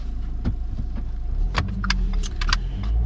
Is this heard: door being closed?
no